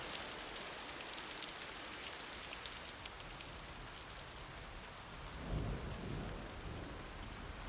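Steady heavy rain hisses across the whole stretch in a forest river valley, with a low rumble of thunder swelling midway and then fading back under the downpour.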